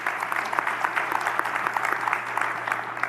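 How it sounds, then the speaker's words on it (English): Town hall audience applauding, a fairly faint, steady patter of scattered hand claps lasting a few seconds with no voices over it. "Let's give them a round of applause"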